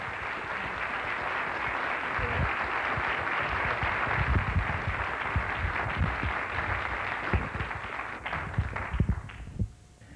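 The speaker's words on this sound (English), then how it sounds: "Would you give them a well-round applause and a welcome to Asheville, North Carolina" Audience applause welcoming Chuck and Barb Snyder from Seattle at a marriage event in Asheville, North Carolina; steady, dense clapping from a crowd fills the room throughout, tapering slightly at the end.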